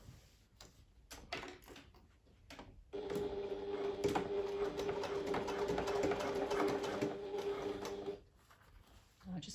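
A sewing machine stitches a pouch seam with a 1 centimeter seam allowance, humming steadily for about five seconds in the middle. Faint handling sounds come before and after the run.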